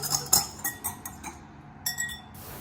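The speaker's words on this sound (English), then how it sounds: "Let's whisk that together." A whisk rattles and clinks against a bowl while mixing a dressing of Dijon mustard, minced garlic and sesame oil, giving a quick run of sharp, bright taps with short pauses between bursts.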